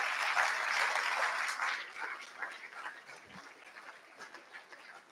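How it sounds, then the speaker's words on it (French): A seminar audience on priority education gives a round of applause, dense broadband clapping that starts strong and gradually thins and fades over a few seconds, heard from a moderate distance. "je tiens aussi à ce qu'on leur fasse une salve d'applaudissements"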